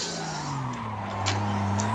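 A Toyota Supra in a racing video game slides out while drifting on a drift track, its engine droning steadily with shifting revs and a faint tire squeal, continuous and close with no talking.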